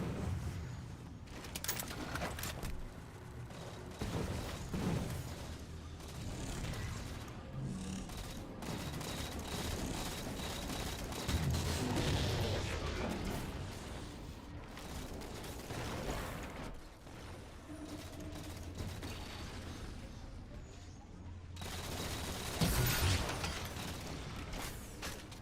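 Rapid gunfire from a hunter's gun in World of Warcraft Classic TBC, dense repeated shots and mechanical clatter running almost the whole way through amid busy game sounds, with brief talk over it.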